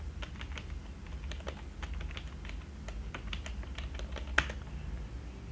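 Quiet computer keyboard typing while working in Excel, with a run of light, irregular key clicks and one sharper tap near the end, all fairly soft against a low background hum.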